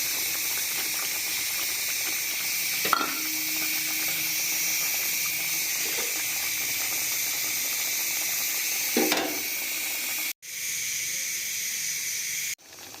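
Fried puti fish go into a simmering pan of sour curry with taro and radish, setting off a steady loud sizzle and hiss, broken by a few soft stirring scrapes and clinks, with a brief cut near the end.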